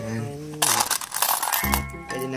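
Saved coins handled and jingling, bright metallic clinks in a short burst between stretches of someone speaking Filipino over background music.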